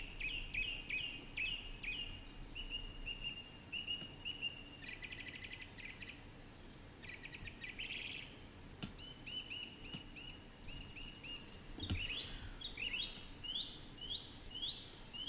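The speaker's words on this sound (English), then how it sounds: "How many bird noises am I gonna have to listen to before I get this job done" Birdsong in the train game Derail Valley: repeated high chirps and short warbling phrases coming in bursts over a quiet outdoor ambience, fairly faint and distant, with no talking.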